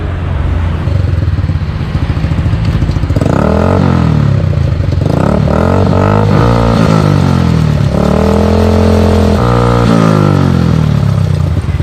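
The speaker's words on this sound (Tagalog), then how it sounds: "buksan mo yung makina, paandarin mo hanggang 4th gear" A close, loud motorcycle engine idles, then revs repeatedly and climbs in pitch through several gear changes up to fourth, with a metallic clatter underneath from a damaged drive chain.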